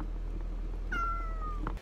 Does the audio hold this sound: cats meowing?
yes